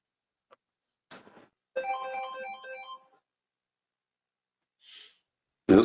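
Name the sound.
phone ringing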